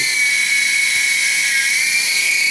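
An RC helicopter's rotor spins as the model flies, giving a steady, loud, high-pitched whine with a bright buzzing edge that holds without a break throughout.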